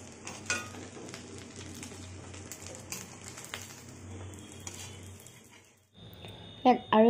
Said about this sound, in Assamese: এতিয়া আমি এটা তেলত ভাজি দিছো